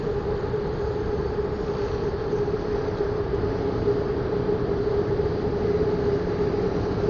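An elevated railway train in Bangkok rolls past on a curve, a steady, loud broadband rumble with a sustained tonal hum that holds evenly throughout.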